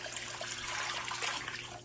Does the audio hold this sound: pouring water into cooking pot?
yes